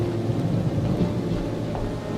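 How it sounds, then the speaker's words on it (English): Rain pours steadily while low thunder rumbles beneath it, a brief dense storm effect at moderate level with no voices. "I see that Baal is sending us rain."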